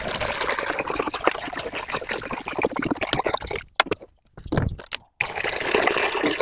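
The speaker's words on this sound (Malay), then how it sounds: "Kita tuang, mula-mula kita tuang air dulu." Water is poured from a container into another vessel while mixing an EM4 batch of 9 litres of water with brown sugar, a gurgling stream that pauses briefly and then resumes, close and fairly loud with no talk.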